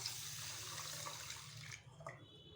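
Tap water runs and splashes while rice is washed for Chettinad athirasam, a faint steady flow that thins out and stops near the end, leaving a few soft drips and clinks.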